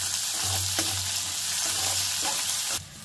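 Sliced onions fry and hiss loudly in an oiled pan for egg curry while being stirred, a dense nearby sizzle with scraping strokes of the spoon throughout.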